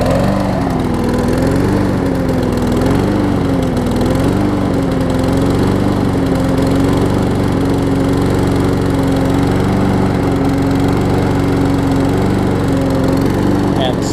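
A Troy-Bilt TB230 self-propelled push mower's gas engine starts and runs loud and close, holding a steady throaty drone throughout with slight wavering in pitch.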